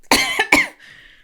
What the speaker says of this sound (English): That was a sincere cough.